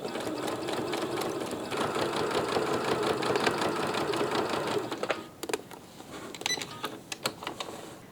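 A sewing machine runs steadily for about five seconds while stitching in the ditch on a quilt-as-you-go binding, then gives a few short start-stop bursts with light mechanical ticks.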